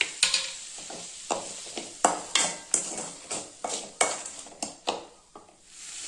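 Guava chutney ingredients sauté with salt in a pan: a quiet sizzle under a rhythmic run of spatula scrapes and stirring strokes that come about every half second.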